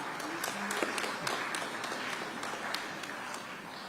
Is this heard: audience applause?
yes